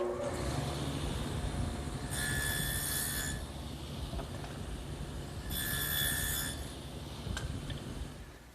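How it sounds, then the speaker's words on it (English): A table saw fitted with a widened dado head cutter runs steadily, with two louder, brighter passes as it cuts tongues into wooden drawer pieces, a continuous mechanical hum filling the gaps between cuts. "I've widened the dado head cutter to take a wider path"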